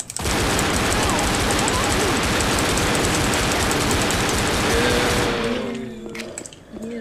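Sustained automatic gunfire from Left 4 Dead fills the scene, a dense loud rattle for about five seconds before it cuts off, with shouting voices over it.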